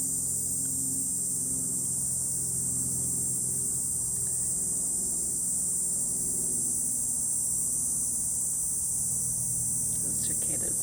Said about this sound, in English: Those cicadas are really, really loud.